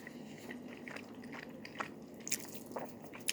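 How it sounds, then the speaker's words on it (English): A person chews food close to the microphone, soft wet squishes and a few crisp crunchy bites scattered irregularly over a low quiet background, with no talking. "sorry, you're gonna have to deal with my chewing"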